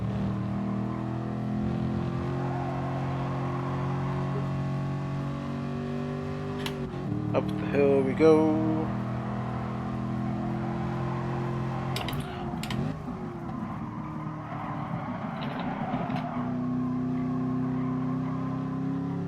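A Chevrolet Camaro race car in Gran Turismo Sport holds a steady, droning engine note throughout, with brief sharper transients midway as it brakes and runs onto grass while a voice talks over it.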